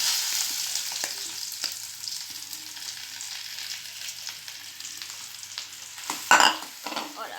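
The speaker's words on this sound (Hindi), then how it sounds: "बेसिकली हमें आलू फ्राई करने हैं" Mashed potatoes frying with mustard seeds in a pan give a steady soft sizzle with scraping stir strokes, rising to a louder burst near the end, with no speech.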